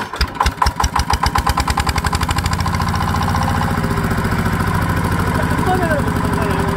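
A power tiller's engine is cranked over and catches, firing in a fast irregular chug that settles into a steady, loud, close-up idling thump.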